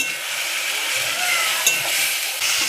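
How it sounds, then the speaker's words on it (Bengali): Chicken with a spice paste of onion, chilli, ginger, garlic, turmeric and salt cooks in a pan, giving a loud, steady hiss of sizzling with faint stirring scrapes underneath. "এবার আমি নেড়ে নিব।"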